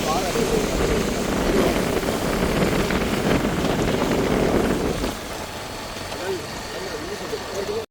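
Strong storm wind by the sea in Jaffna, Sri Lanka roars steadily across the microphone with a rumbling, engine-like texture, then eases slightly near the end, leaving a softer gusty hiss.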